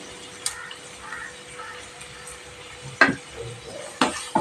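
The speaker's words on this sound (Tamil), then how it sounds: "இது நல்லா வதங்கி வரட்டும்." Onion and tomato sautéing in a pan for an Indian gooseberry (amla) thokku: a soft, steady low sizzle with occasional sharp clinks and scrapes of a spoon stirring, close up, with no talking.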